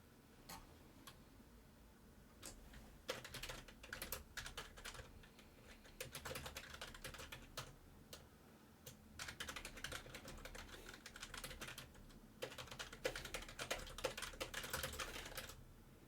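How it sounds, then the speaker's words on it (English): Rapid typing on a computer keyboard, quick bursts of clicking keystrokes with brief pauses, fairly faint and close, with no voices. "Only fast typing."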